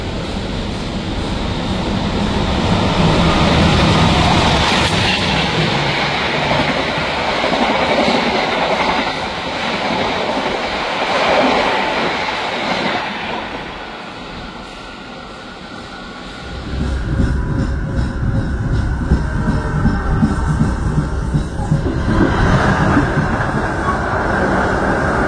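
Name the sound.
Blambangan Express passenger train passing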